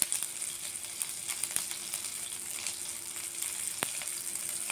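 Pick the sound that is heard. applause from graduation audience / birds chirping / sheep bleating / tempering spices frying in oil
tempering spices frying in oil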